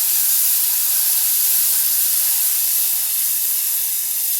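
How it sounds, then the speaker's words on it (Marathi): Ground sprouted moth beans sauté in hot oil with a loud, even, broadband hiss that never lets up, close by and with no one talking. "आधी हिला आपण हलवून घेऊया तेलामध्ये छान सातवून घेऊया"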